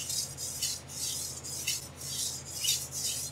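Steel knife blade stroked straight back and forth on a sharpening stone, a close, steady rasping rub repeating in even strokes of about half a second each, with no talk.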